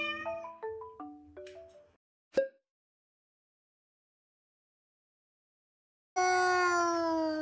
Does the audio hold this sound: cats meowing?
yes